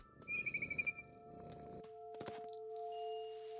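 A cat purrs in the video game What Remains of Edith Finch, a soft rumbling burst lasting under two seconds, followed by sustained game tones and light chiming effects.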